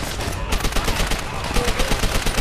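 Rapid Gewehr rifle gunfire from the video game Call of Duty: World at War, a dense run of loud, evenly spaced shots filling the whole stretch, with faint voices mixed in underneath.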